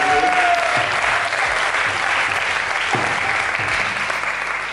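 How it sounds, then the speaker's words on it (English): An ISKCON Nairobi congregation at a guru oath ceremony gives a big round of applause for Umapati Prabhu, steady and loud from many hands, with a voice audible faintly at the very start. "So everybody please give a big round of applause to Umapathi."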